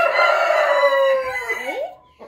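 A single loud rooster crow, close by, rising and then trailing off in a drawn-out call, followed by a brief softer sound.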